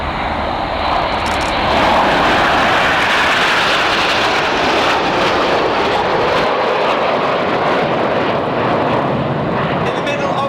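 RAF Red Arrows jets in Phoenix formation roar past at an air show, a loud, broad, sustained jet rumble that swells and holds for the whole stretch, with a commentator talking over it.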